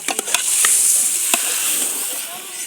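Food fries in a pan with a bright, high sizzle that holds fairly steady, a few sharp crackles and pops landing in the first moments.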